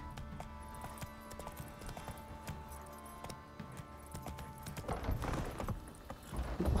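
Roach the horse's hooves clip-clop steadily in The Witcher 3, a regular trotting rhythm over a low game ambience that grows louder and denser toward the end.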